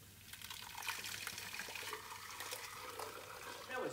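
Thick custard mixture is poured back into a saucepan while making honeycomb ice cream, giving a soft continuous liquid pouring and trickling sound, faint and steady throughout.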